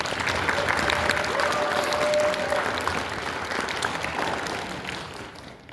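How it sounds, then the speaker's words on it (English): A large anime convention audience applauds in a hall, sustained dense clapping with some crowd murmur, gradually easing off toward the end. "Let's give yourselves another round of applause."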